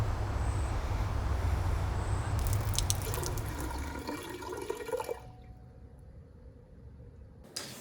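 Water poured during an annual water sharing service, with a steady splashing stream that changes character midway and then stops abruptly, leaving near silence before a faint final drip.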